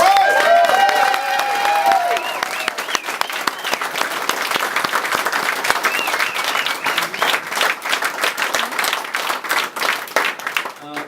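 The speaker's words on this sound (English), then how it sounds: "give yourselves a big round of applause" Crowd applause at a political rally in Raleigh, dense sustained clapping from a large audience for about eleven seconds, with scattered voices and cheers mixed in and some tonal sound at the very start.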